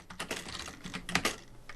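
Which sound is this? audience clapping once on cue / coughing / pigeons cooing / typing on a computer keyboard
typing on a computer keyboard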